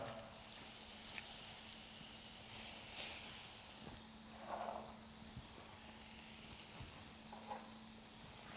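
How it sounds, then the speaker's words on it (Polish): Onion sizzling in a dry, hot pan with no fat, a steady soft hiss running throughout with a few faint clicks and crackles, heard close and alone without any talk. "Na rozgrzaną patelnię dorzucamy cebulę"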